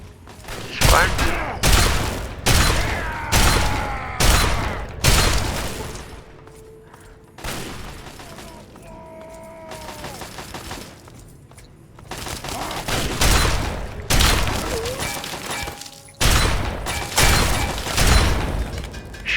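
Shotgun blasts in the video game Fallout 3 ring out in repeated loud bursts with short pauses between volleys, and a voice talks faintly between the shots.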